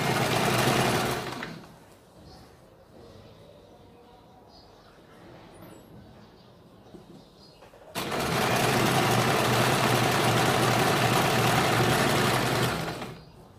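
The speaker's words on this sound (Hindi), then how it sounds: "यहाँ पे हमें एक सिलाई लगानी है" A sewing machine stitches a seam on a kurti in two loud, close bursts: a short run at the start, then a quiet pause, then a longer steady whirring run of about five seconds.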